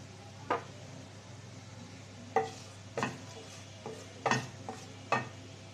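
Whole spices, a piece of cinnamon, two cardamom pods and a bay leaf, go into a pan for biryani, producing a few sparse, light clinks and taps over a low, steady background hum.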